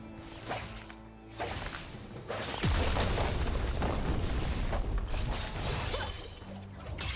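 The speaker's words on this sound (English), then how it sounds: "Blue Team's turret has been destroyed." Turret destruction in League of Legends, a loud sustained crash and rumbling boom with whooshing debris, building after a quieter start and holding strong for several seconds.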